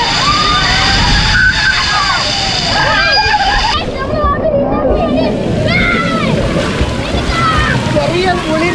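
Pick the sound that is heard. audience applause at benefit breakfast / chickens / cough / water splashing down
water splashing down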